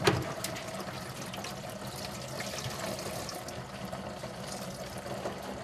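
Cold water runs from a tap in a steady, close splashing stream, continuous and even throughout.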